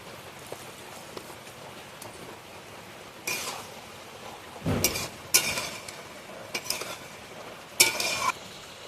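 A spoon stirs banana flower curry with raw chickpeas in a pan, making a few scattered, fairly faint bursts of scraping and clattering against a quiet simmering background. No voices.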